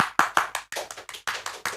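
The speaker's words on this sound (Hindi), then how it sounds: "विनय जी के लिए जोरदार तालियां हो जाइए" Audience applause for a guest speaker at a talk, a brief burst of loud, close, uneven hand claps from a small group.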